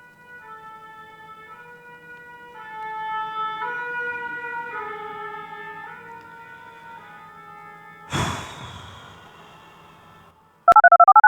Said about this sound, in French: c'est sirène de pompiers